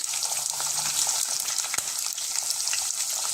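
Onions, carrot, beans, green chillies, capsicum, potato and curry leaves are stirred together in a hot oiled pan for vegetable biryani. A steady, close sizzle runs throughout, with a few scraping stir sounds and one sharp clack near the end.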